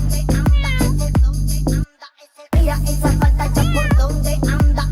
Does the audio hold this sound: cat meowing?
yes